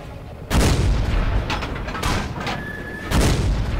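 Tank guns fire during a World of Tanks battle with a Panzerjäger I: heavy, booming cannon blasts and rumbling explosions overlap in a continuous loud barrage.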